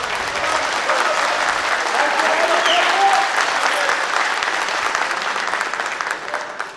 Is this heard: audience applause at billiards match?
yes